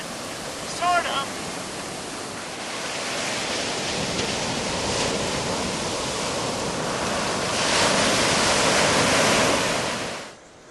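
Atlantic Ocean surf on the coast of Acadia National Park as the tide comes in: a continuous broad wash of breaking waves that swells louder toward the end, with wind, and no talk.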